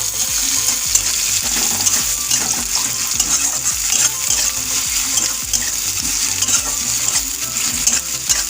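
Onion, garlic and panch phoron frying in hot oil, a loud, steady sizzle with rhythmic stirring scrapes of a spatula against the pan, heard close and without voices.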